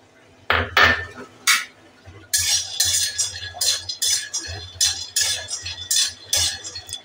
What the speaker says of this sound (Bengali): এবার কাঁচা বাদামটাকে সুন্দর করে ভাজা করে নেব।